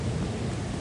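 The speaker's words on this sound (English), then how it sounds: "I'm gonna get struck by lightning." Thunder from a lightning strike in the video game Lethal Company: a loud, dense, rumbling crash that fills a brief moment with broadband roar and no voices.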